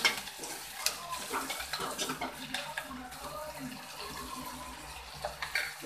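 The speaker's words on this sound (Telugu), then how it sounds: "కరివేపాకు కూడా వేసేసుకున్నాం. ఇప్పుడు బాగా కలుపుకున్నాం." A drumstick curry with curry leaves gets stirred in a pan, with soft irregular scraping and clinking of a utensil over a faint sizzle, quiet and close.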